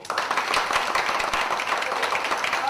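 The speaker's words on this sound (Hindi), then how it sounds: "रूपाली के लिए एक बार जोरदार तालियां होनी चाहिए।" A room of seminar attendees at a goal-setting training session breaks into steady, dense applause that holds evenly throughout, with no talk over it.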